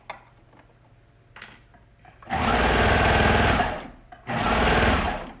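Sewing machine stitching a seam on a kids' hoodie, heard in two loud, close bursts of rapid running stitches separated by a brief pause, after a quieter stretch with faint handling clicks.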